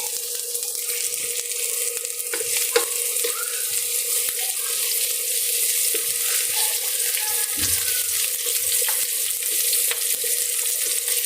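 Garlic and onion fry in oil for pork lumpia, a steady close sizzle that runs throughout, with occasional stirring scrapes and small clinks and no talking.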